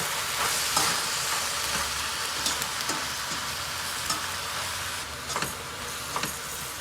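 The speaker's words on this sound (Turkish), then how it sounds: "Evet tuzu da ilave ettikten sonra tekrardan karıştırıyorum." Fresh green beans with garlic and salt frying in a pan and being stirred, giving a steady hissing sizzle with scattered scraping knocks from the spoon, close and moderately loud.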